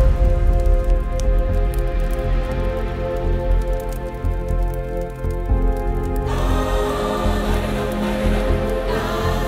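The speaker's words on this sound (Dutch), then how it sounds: "De druppels druppen nog van de takken" Rain dripping from tree branches just after a shower, a steady dense patter of drops on surfaces that brightens and grows busier partway through.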